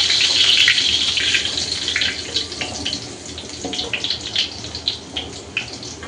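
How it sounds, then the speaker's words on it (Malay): Garlic dropped into hot oil in a pan while cooking water spinach, giving a loud, steady hiss and crackle that settles into softer sputtering pops. "Minyak dah panas, masukkan bawang putih."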